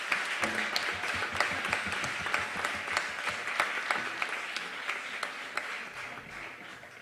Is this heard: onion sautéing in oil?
no